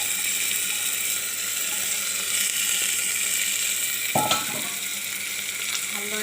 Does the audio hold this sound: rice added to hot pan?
yes